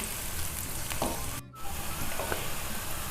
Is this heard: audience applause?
no